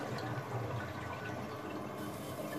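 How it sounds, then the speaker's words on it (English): A toilet flushing nearby, a steady wash of rushing water that runs unbroken from start to finish with no voices over it. "What happens when you flush it?"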